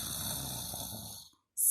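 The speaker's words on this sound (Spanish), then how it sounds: "Sigue roncando el gran oso marrón." A big brown bear snores in one long, breathy rasp at close range before it cuts to silence, followed by a brief high hiss.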